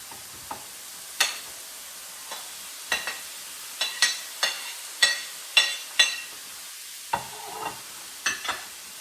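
Potatoes frying with ground pork in a pan, with a soft sizzle under a string of sharp spatula scrapes and clinks that come at an irregular, quickening pace.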